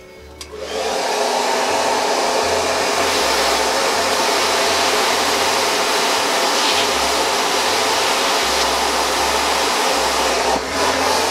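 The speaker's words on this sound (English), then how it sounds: "and then turn on the hairdryer with your thin nozzle" A hair dryer fitted with a thin nozzle switches on and blows steadily, a loud continuous whooshing roar close by that holds for the whole stretch.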